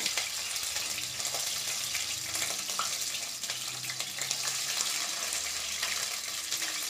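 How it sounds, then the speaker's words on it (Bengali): Cauliflower pieces fry in hot oil in a wok, a steady, fairly quiet sizzle and crackle of moisture spitting in the oil, continuous throughout with no talking. "কড়াই আমার গরম হয়ে গিয়েছে, তো পরিমাণ মতন তেলটা আমি দিয়ে ফুলকপিটাকে ভেজে নেব।"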